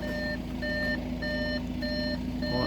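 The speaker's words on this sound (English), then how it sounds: "Oh, that's annoying, that beeping." Steady reversing warning beeps from a vehicle sound in a regular rhythm of four evenly spaced tones, fairly loud over a low engine idle near a parked Audi Q5 2.0 TDI S line.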